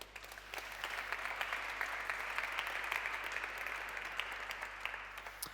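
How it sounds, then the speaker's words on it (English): At the MCCS Checkpoint 2025 conference, a large audience claps in a sustained, even round of applause, close and full, with no talk over it. "big applause, please."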